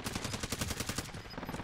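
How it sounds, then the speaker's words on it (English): Rapid automatic gunfire in the Warzone video game, a dense, continuous rattle of shots throughout a short burst, moderately loud and close. "He's getting shot at right now."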